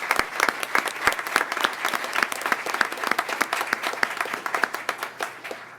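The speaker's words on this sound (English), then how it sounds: "Can we give them one more round of applause?" Audience applause for a student quartet from Douglas Anderson School of the Arts at a school board meeting: a steady, dense run of many hands clapping for nearly six seconds, with no voices over it.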